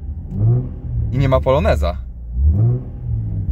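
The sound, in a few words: Nissan 350Z with Remus exhaust revving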